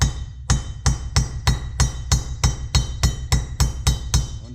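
Freeze plugs being driven into a Detroit Diesel 8V71 blower with a hammer and socket: about a dozen sharp, evenly spaced metallic blows roughly every third of a second, loud and close, with no talking.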